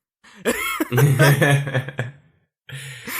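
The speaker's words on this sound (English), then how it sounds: "So sorry if I sound like I'm coughing a lot." Several harsh, close coughs from a commentator playing Cuphead, in a quick burst, then a pause before another rough cough begins.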